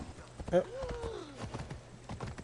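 Hoofbeats clip-clop in a steady walking rhythm from a horse in Assassin's Creed Odyssey, with a short whinny-like tone and talk over the top.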